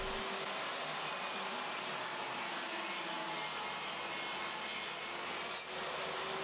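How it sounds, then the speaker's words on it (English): A table saw rips a length of pine for shelf cleats, giving a continuous whining, hissing cut over a low motor hum that holds steady and close for several seconds, with no voices. "I then ripped a piece of the pine to that measurement, then I could rotate and run it through again"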